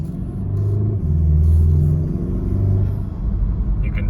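Porsche Macan fitted with a Flat 6 Motorsports intake system pulling hard through the gears, a loud, close, deep engine drone rising and falling as it revs and shifts, with no talk.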